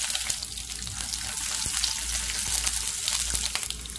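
Chillies and peanuts frying in a little hot oil in a pan for chivda, giving a steady, close sizzle with soft crackles throughout and no talking.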